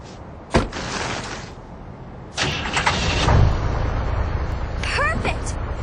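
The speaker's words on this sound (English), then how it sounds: "There's a snowmobile over there!" Snowmobile engine in the video game Resident Evil Code Veronica cranks to life and settles into a steady, close idle, running loudly beneath character voices.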